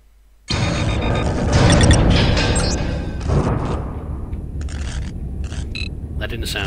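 A sudden loud crash starts a rumbling, rattling roar of internal explosions aboard a starship in Star Trek Voyager: Elite Force, metallic debris fading slowly, with sharp bangs continuing throughout.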